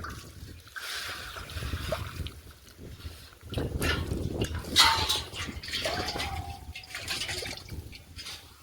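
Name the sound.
water poured onto plants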